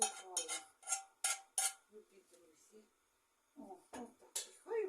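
Food tumbles into a pot in a few quick clattering bursts, with clinks of metal, close and fairly loud, followed by a short quiet pause.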